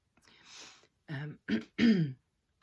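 A soft breathy exhale followed by three short, close throat-clearing coughs in quick succession.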